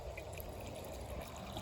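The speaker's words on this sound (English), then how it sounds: "Some water and fertilizer there for the cayenne." Water mixed with fertilizer poured onto a cayenne chilli plant in a garden, a steady, close trickling wash running through the whole short moment with no talk over it.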